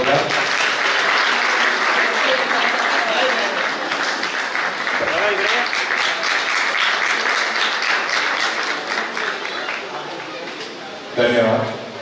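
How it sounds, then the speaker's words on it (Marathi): Loud, dense clapping fills a retirement function honouring a PF office official, a crowd applauding steadily for several seconds before tapering off, with voices heard over it near the end. "मित्रांनो टाळ्या उंचावू द्या एकदा जोरदार"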